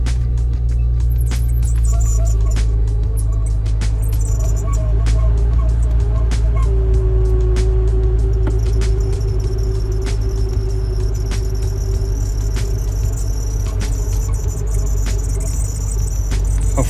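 A faulty blower fan in a BMW 335i gives off a continuous droning hum with scattered clicks and rattles, heard steadily and close inside the car.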